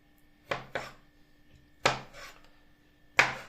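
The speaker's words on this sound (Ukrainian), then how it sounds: "Огірки також нарізаємо соломкою" A knife cutting cucumbers into thin strips on a board: three close, crisp pairs of chops spaced apart, with quiet pauses between them.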